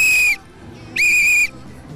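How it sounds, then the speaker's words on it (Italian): A carnival performer acting as a traffic cop blows a whistle in two sharp, shrill blasts, each about a third to half a second long, separated by a short pause. "Ah sì, io ho il fischietto qua"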